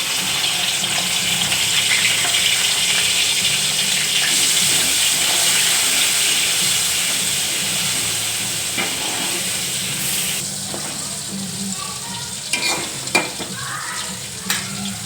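Potatoes fry in a pan for a stuffed okra dish, a dense, steady sizzle with stirring that softens gradually, followed by a few sharp utensil knocks near the end.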